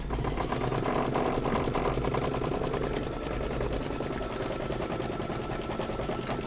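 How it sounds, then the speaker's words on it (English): A sewing machine stitching a placement line on a holiday gnome tea towel, a fast, even mechanical whir and rapid needle clatter running continuously, close and loud. "I'm stitching the placement line for the hat"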